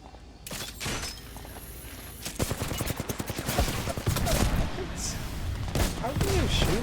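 Rapid gunfire in the Apex Legends video game, with bursts of shots and impacts rattling close by in a busy firefight, mixed with brief bits of voice.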